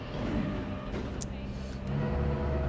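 A BMW race car engine at Monza in the game Assetto Corsa Competizione drones steadily with a harsh rasp, rising slightly in revs toward the end under faint talk.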